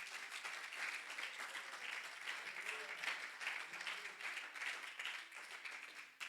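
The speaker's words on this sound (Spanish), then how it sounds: "Dale fuertes palmas a Él." Church congregation claps together in sustained, even applause, fairly distant and quiet, with no talking over it.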